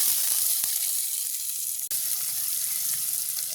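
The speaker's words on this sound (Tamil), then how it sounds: "நல்லா இதையும் வதக்கு நல்லா வதங்கு." Onion, green chili and fennel seeds sauté in hot oil, giving a dense, steady sizzle close by with a couple of quick stirring taps.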